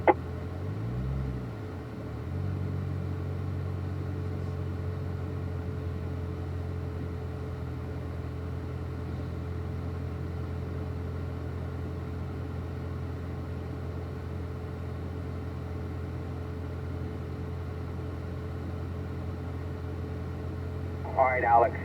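A race car driven through the corners of a serpentine exercise on a track at a Ron Fellows driving session, heard from inside as a steady, droning engine hum with a brief rise at the start and a faint voice near the end.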